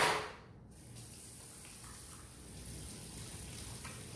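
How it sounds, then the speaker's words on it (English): Running tap water pours steadily as hands are washed with soap at a kitchen sink. It is a continuous, moderately close hiss with no talk over it. "So make sure you wash your hands under some soapy running water."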